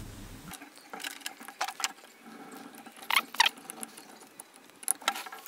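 Screws go into a Lucas 25D distributor from a Morris Minor, heard as close, small metallic clicks and ratcheting scrapes from a screwdriver in quick irregular bursts.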